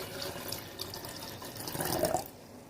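Water being poured into a phuchka filling mix, a soft, close splashing trickle that swells briefly before stopping.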